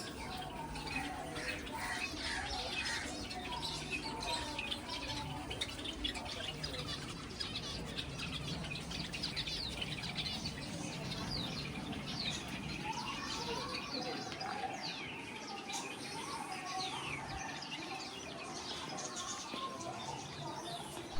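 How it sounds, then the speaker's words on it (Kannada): Small birds in a cage chirp and tweet continuously in quick repeated bursts, with faint voices and ambient noise in the background. "ಸೊ ಒಂದು ಸ್ಮಾಲ್ ಬರ್ಡ್ ಕೇಜ್ ಇದೆ ನೋಡಿ."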